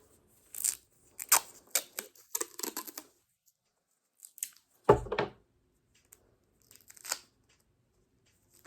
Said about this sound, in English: I'm gonna go ahead and use the tape to tape it up.